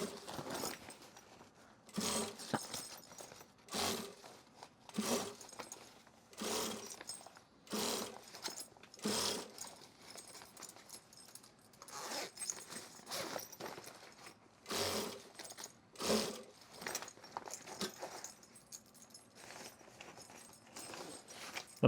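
Sewing machine stitching the exterior and interior fabric of a drop liner duffle bag together along a basting line, heard in short repeated bursts of whirring with pauses between, moderately close.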